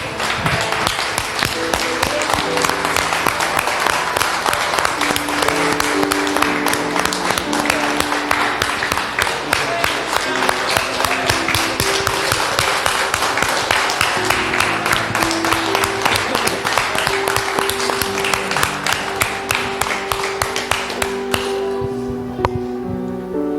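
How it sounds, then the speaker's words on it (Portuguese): A church congregation applauds through a loud, dense stretch of clapping over music, keeping on steadily until near the end. "Você pode aplaudir a Jesus"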